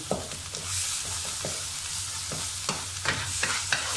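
Butter sizzles in a hot pan for nasi lemak, a steady soft frying hiss with intermittent scraping stir strokes, close and fairly quiet, with no voices.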